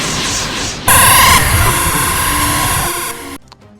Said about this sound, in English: So in Grandia 2, enemies make sound effects, but in some cases they'll overlap